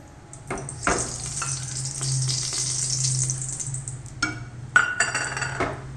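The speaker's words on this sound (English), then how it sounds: "Some oil, and 3 spoons ghee I am adding." Oil and ghee sizzling in a heated pressure cooker for tomato rice: a continuous frying hiss that swells and fades, punctuated by a few metallic clinks and scrapes of utensils against the pot.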